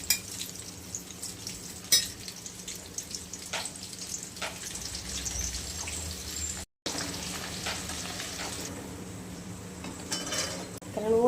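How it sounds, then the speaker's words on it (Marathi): Crushed garlic frying in oil until reddish brown, a continuous crackling sizzle close by, broken by spoon and pan clatter and scraping, with a brief dropout partway through. "त्यानं लाल भूसपर्यंत लसूण तळून घ्यायचा आपण"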